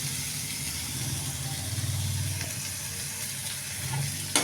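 Pirandai (adamant creeper) sautéing in sesame oil, giving a steady close sizzle and hiss with faint stirring scrapes throughout and no voices.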